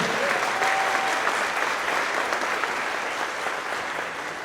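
Steady, dense applause from a crowd at a company celebration, continuous and loud for the whole stretch with no talking over it.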